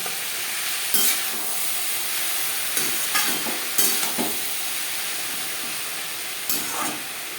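Long beans and bottle gourd peel sizzle and hiss steadily in a pan as a utensil stirs them, with occasional louder scraping strokes cutting through the constant frying noise.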